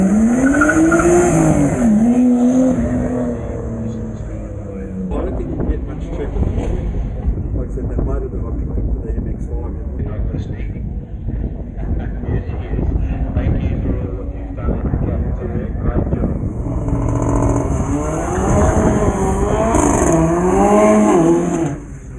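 A Nissan Skyline GTS-X HR31 competing in the improved-production two-wheel-drive class at a Victorian hillclimb championship round revs loudly near the start line, its engine note rising and falling in sharp sweeps, with a quieter idling stretch in between.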